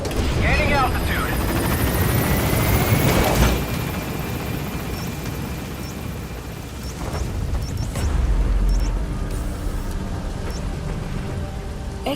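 A helicopter lifts off and climbs in the video game Metal Gear Solid V, with a steady loud rotor roar under game radio voices and scattered distant bangs.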